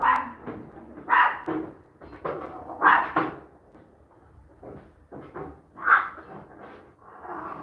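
A dog barking in short bursts from a balcony at night, several sharp barks spaced irregularly with knocks and door sounds between them.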